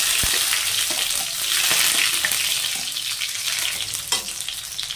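Garlic cloves, whole red chilies and chopped onion fry in oil in a pan while being stirred, giving a loud, steady, close sizzle with scraping stir noises throughout.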